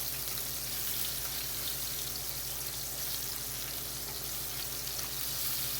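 Meatballs browning in a frying pan over medium-high heat, giving a steady, even sizzle and crackle of hot oil that stays constant throughout with no talking.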